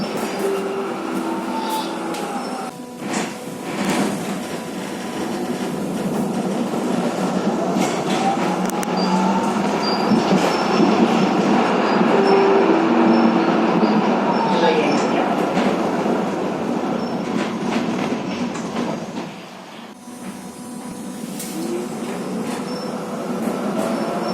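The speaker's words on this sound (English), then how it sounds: "I go on a 1990s tram with DC pulsing." A 1990s tram with DC pulsing control rolls along with a constant rumbling drone, rising and falling whining tones from the motors, and occasional clicks, close and loud throughout.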